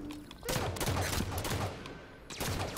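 Gunfire in a Halo 5: Guardians match, with a loud, close burst of sharp shots followed by a pause and another burst.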